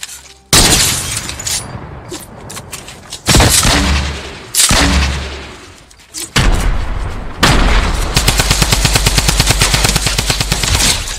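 Loud, close gunfire in Fortnite rings out in several sharp bursts, then a long fast automatic stream of rapid shots near the end, mixed with crashes and breaking sounds.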